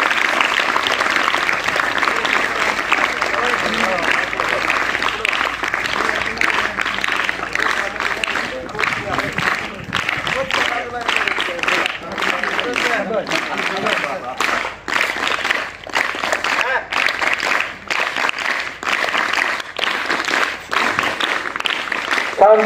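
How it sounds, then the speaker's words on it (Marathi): An audience at a felicitation ceremony claps in sustained, dense applause throughout, loud and continuous, with voices talking over it. "सर्वांनी जोरदार टाळ्या वाजवायच्या आहे."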